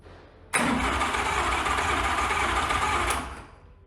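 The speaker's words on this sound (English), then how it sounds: "Just to sort of hear it start turn over" A TVR Cerbera's V8 engine cranks on its starter motor, a loud steady whirring churn that cuts in abruptly, runs about two and a half seconds, then fades.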